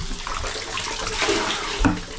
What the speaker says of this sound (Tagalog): Salok tayo ng tubig.